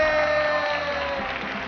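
Sustained applause from an audience at a Thai youth documentary award ceremony, dense clapping mixed with some cheering, steady and fairly loud for the whole stretch, with a faint tonal hum underneath.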